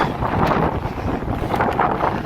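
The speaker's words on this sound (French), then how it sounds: "Alors qu'il y a du vent." Gusty wind on the bridge to Île de Ré buffets the microphone with a constant low roar and rustle, loud and close, with no voices.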